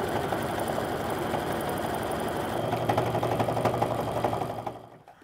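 A sewing machine runs steadily as it stitches around the edges of a fancy apron, whirring continuously at close range before slowing to a stop at the end.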